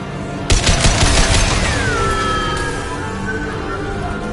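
Gunfire from Mass Effect 2 erupts suddenly as a loud burst of rapid automatic shots, followed by a ringing, descending electronic whine that lingers as the shooting fades.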